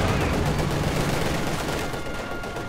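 Heavy mortar bombardment and gunfire rage in a Company of Heroes 2 battle, a loud, dense, unbroken wall of explosions and rattling fire with faint voices mixed underneath.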